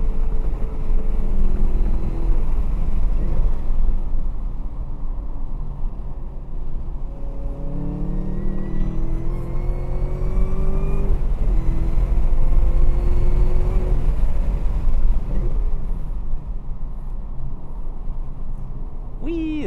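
A sports car engine roars steadily nearby at Buttonwillow Raceway Park, its pitch rising and falling through gear changes as it accelerates and revs.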